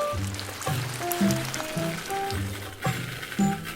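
Dry rice grains poured down into a container during a sensory play session, giving a soft, continuous rain-like patter with light rattling. A voice is heard faintly in the background.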